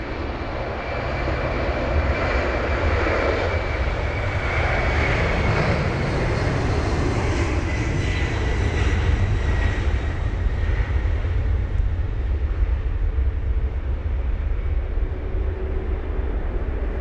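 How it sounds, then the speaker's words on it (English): A heavy jet departing London Heathrow on runway 27 right in wet conditions builds to a loud, close engine roar with a rising whine, then holds at a sustained thunder, no talking. "We've got heavy aircraft next for departures"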